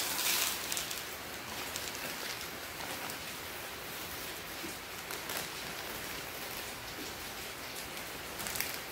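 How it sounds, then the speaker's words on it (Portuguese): Heavy rain pours down at night in an even, continuous roar of dense drops, steady and fairly loud throughout, with a few louder splashes but no voices. "E tá chovendo muito"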